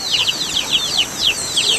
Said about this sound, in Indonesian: Mau ikut makan juga ayam-ayam kayaknya. Banyak ayam nenek.